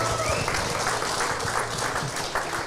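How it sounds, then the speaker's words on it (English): Applause from a live podcast show audience, a dense steady patter of many hands clapping for a guest, sustained at even loudness throughout with no voices standing out. "So another round of applause for Pat."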